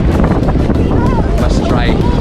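Strong wind at a beach at low tide buffets the microphone in loud, rough gusts, nearly masking the surf, while a person talks throughout.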